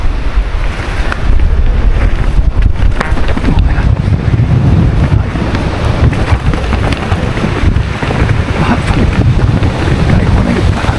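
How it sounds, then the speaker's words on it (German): New Bosch Performance Line CX e-MTB riding over roots, a continuous loud rush of wind and tyre noise with rattling bike sounds and no clear motor whine. "Also man hört eigentlich nur was vom Fahrrad und die Reifen."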